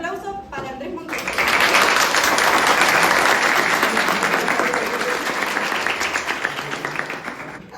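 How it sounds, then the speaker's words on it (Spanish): An audience bursts into strong, sustained applause to welcome writer Andrés Montero, dense clapping starting after a brief spoken lead-in and gradually thinning toward the end. "Un fuerte aplauso para Andrés Montero."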